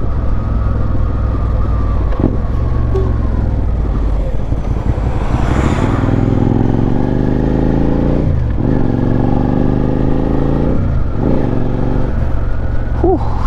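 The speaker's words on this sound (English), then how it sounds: "Like that V-twin sound really makes me want to cruise rather than speed" Suzuki SV650 V-twin motorcycle engine running steadily while riding, a loud, continuous low rumble with rising and falling revs and a few brief throttle dips, wind noise over it.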